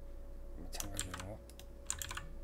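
A quick cluster of computer keyboard key presses while working in Blender 2.83, soft close clicks over a faint background hum, with a brief murmur of voice partway through.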